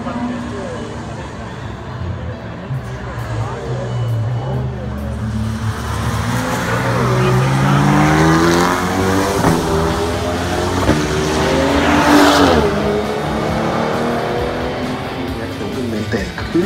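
A small BMW M2 race car drives with its engine running steadily, pitch rising and falling through gear changes, loud and continuous at close range.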